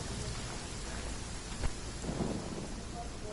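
Steady rain and a rumble of thunder in the video game Genshin Impact, with a constant hiss of falling rain and a single sharp thunder crack midway.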